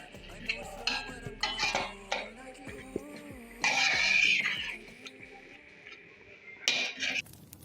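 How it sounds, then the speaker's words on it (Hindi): Chicken koyla karhai with garlic paste and spices is stirred in a cooking pot, with a spoon scraping and clinking against the metal in intermittent bursts, close and moderately loud. "अब इसको अच्छी तरह मिला लीजिए।"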